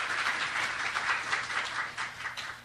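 Audience applause at a seminar opening, a steady moderate wash of clapping lasting throughout, somewhat distant in a hall.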